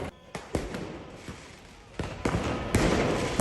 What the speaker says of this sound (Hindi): पुलिस पर पत्थर और पटाखे फेंक रहे हैं प्रदर्शनकारी।